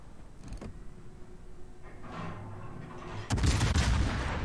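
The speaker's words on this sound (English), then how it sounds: "Rear guns, getting the Citadel, like rear guns do" The rear guns of the warship Napoli fire in the game World of Warships. A muffled boom comes early, and a heavier, rumbling salvo follows near the end.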